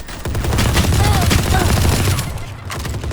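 Rapid gunfire in the video game Valorant, loud and dense bursts of shots packed together over the whole moment, with a noisy low rumble underneath.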